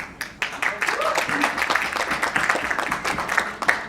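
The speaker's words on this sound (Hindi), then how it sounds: "जोरदार तालियां" An audience at a film poster launch in India claps and cheers in a steady, dense wave of applause, with voices calling out over it.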